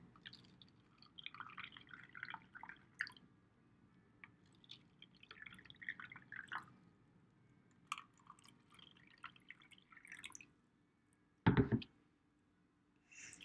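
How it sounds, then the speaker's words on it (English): Water is poured a little at a time into three ordinary cups as a home experiment is set up, giving faint trickles and drips followed by one short, louder splash near the end. "I'm going to fill each cup with a little bit of water."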